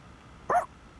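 A single short dog bark from the Persona 3 Reload video game, a sharp clipped yip over faint background game ambience.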